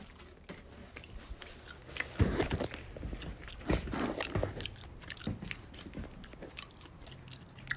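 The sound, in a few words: chewing a piece of candied ginger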